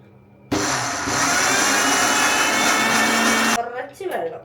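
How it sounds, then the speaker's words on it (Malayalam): Kitchen mixer grinder blending a batch, switching on abruptly with a loud, steady high-pitched whir that runs for about three seconds, then cuts off and leaves brief clatter and rattling. "അപ്പോൾ ദേ നമ്മുടെ മിക്സിയിൽ ഇത് അടിക്കാൻ പോണേണ്."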